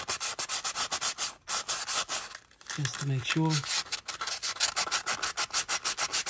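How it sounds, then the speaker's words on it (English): Sandpaper rubbing over a surface in the engine bay of a 2010 VW Golf during water pump and belt work, rapid rhythmic back-and-forth strokes close to the microphone, pausing briefly while someone speaks. "sanding paper"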